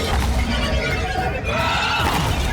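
A horse in Warframe lets out a loud, drawn-out whinny that rises and wavers over busy in-game sound, with a second shorter neigh near the end.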